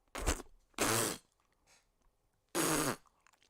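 A man imitating a fart with his mouth, making three short raspy blurts with pauses between them, close and alone with no speech.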